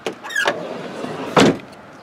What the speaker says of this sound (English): we can open up the rear slidey door and reveal the pillarless entry inside